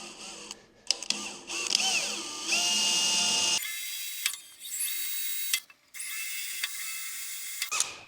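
A power drill whirs in several bursts of steady high-pitched grinding as it bores through clamped steel, starting and stopping with short pauses between runs.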